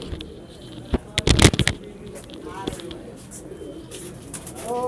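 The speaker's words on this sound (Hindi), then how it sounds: "तो भाई देखिए इस लॉफ्ट में भी कबूतर है, इसमें भी कबूतर है" Pigeons in a loft cooing and calling nearby, with a burst of louder flapping or scuffling early on, low throaty coos scattered throughout, and faint background voices.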